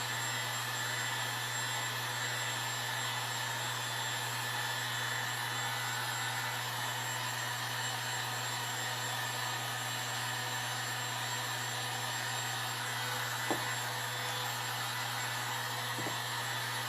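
A Galaxy Pro heat gun, rated 300 to 500 degrees, blows hot air steadily over a painted birdhouse stand, making a constant close whooshing hum for the whole stretch with a faint tick near the end.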